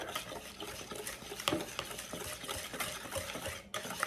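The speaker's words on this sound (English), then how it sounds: "Let me whisk this all together." Banana bread batter is whisked in a bowl, a quick continuous rhythmic scraping and tapping of the whisk against the sides, close and fairly quiet with no talking.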